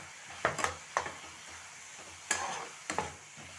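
A spatula scrapes sharply against a pan as powdered spices are stirred into vegetables frying in it, with several distinct strokes over a faint low sizzle.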